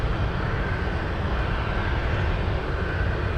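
A Boeing 747 cargo jet taxiing toward the runway at Anchorage airport, a steady broadband engine roar that holds constant throughout.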